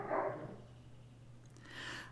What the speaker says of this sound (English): I'm sorry about the dogs barking